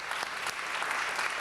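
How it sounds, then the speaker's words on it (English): Dense applause fills a city council meeting chamber in Los Angeles, a steady patter of many hands clapping at even strength across the whole moment, with no voices over it. "we should give him a warm round of applause for his work and service in the city of Los Angeles"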